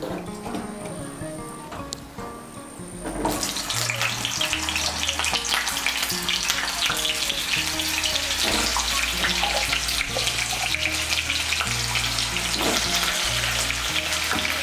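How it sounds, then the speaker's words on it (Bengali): Two medium potatoes, cut into pieces, fry in hot oil. The first few seconds are quiet, then a loud, dense, continuous sizzle takes over, with musical tones running beneath it. "প্রথমে আমি আলুগুলো ভেজে নিচ্ছি।"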